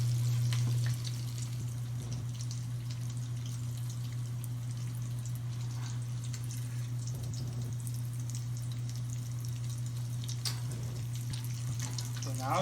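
Acarajé, a Brazilian black-eyed pea fritter made plant-based here, fries in hot oil with a steady close sizzle over a constant low hum, without speech.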